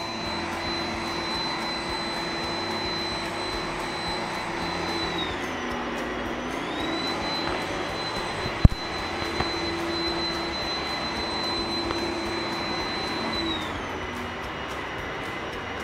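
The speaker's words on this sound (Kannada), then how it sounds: "ಈಗ ನೋಡಿ ನಿಮ್ಮ ರೋಬೋ ಸ್ಟಾರ್ಟ್ ಆಗುತ್ತೆ. ನೋಡಿ ಕ್ಲೀನಿಂಗ್ ಸ್ಟಾರ್ಟ್ ಆಗ್ತಾ ಇದೆ." An iRobot Roomba 980 robot vacuum runs steadily while cleaning, with a constant motor whine and hum, a whistling tone that dips and rises as it maneuvers, and one brief knock midway.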